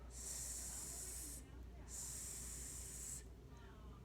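A voice imitates a snake's hiss while tracing the letter S, with two long, loud sustained hisses separated by a short pause, close to the microphone.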